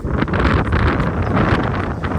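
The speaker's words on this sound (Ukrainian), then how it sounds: "Але такий вітер зараз всюди, і на рівнині теж." Strong wind on a Carpathian mountaintop buffets the microphone in a constant, blustery roar with gusty surges, no other sounds standing out.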